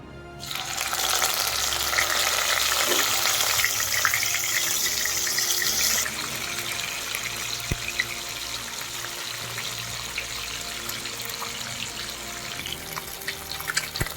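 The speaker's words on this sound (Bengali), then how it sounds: "এবার মাছগুলোকে আমি ভেজে নেব" Rohu fish frying in hot oil in a wok, a steady loud sizzle and crackle that starts abruptly and continues throughout, easing slightly partway through, with no talking.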